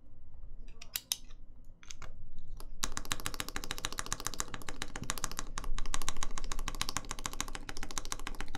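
Typing on a custom Caustic TGR 910SE mechanical keyboard: a few scattered key presses, then a dense, steady run of fast, crisp clacks that continues to the end, close and clear with no talking.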